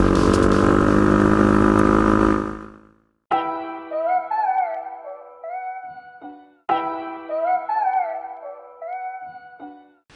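A KTM 500 EXC enduro motorcycle engine runs loud and close with a dense, steady roar for about three seconds before cutting off abruptly, followed by melodic tones.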